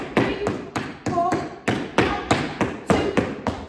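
Tap shoes strike a hard floor in a beginner tap class: about a dozen crisp spank, hop, step and shuffle taps land close and loud in a quick, even rhythm, with no talking.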